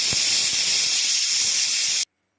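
A loud, continuous steam whistle from a pressure cooker cooking amaranth leaves and raw dal, hissing strongly for about two seconds before cutting off abruptly into silence.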